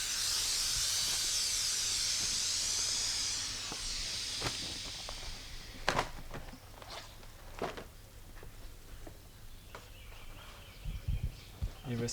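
A strong, steady hiss of vacuum being released on a spirulina press fills the first few seconds, then fades to a quieter background with scattered small clicks and rustles.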